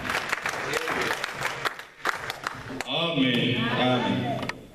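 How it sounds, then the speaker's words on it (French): A church congregation claps and cheers in acclaim for the Lord Jesus Christ, a loud crowd burst of applause, with voices calling out and singing-like cheers rising over the clapping in the second half. "si nous pouvons acclamer pour notre Seigneur Jésus-Christ"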